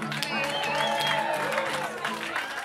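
Applause and cheering from a crowd at a live band performance in a Phnom Penh venue, steady clapping under a voice speaking over the noise and sustained musical tones.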